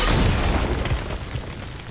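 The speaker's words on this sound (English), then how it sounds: "That was a pretty significant explosion." A powerful explosion in the God of War video game, a dense low rumbling boom that fills the whole stretch loudly and steadily, with debris-like crackle on top and no talking.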